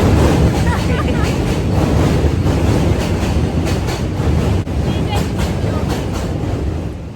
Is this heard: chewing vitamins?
no